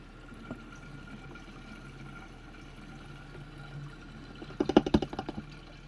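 Liquid poured into the fuel tank of a 125 pit bike, a faint trickle at first that turns into a short run of louder gurgling, glugging pulses near the end.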